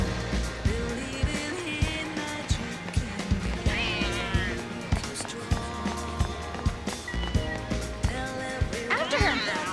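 Cats meow excitedly in the video game Final Fantasy XIII-2, several calls rising over background game music and sound effects, with brief chatter in between.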